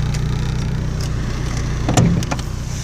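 Chevrolet Vectra GT sedan engine idling steadily with a low, even hum, briefly lifting in a short rev near the end; no talk over it.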